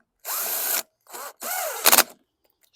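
Power drill driving 7mm screws plastic into plastic on the carburetor of a 2013 Troy-Bilt TB110 walk-behind mower: three close, loud whirring bursts with rising and falling pitch, the last ending in a sharp ratcheting clatter, then quiet.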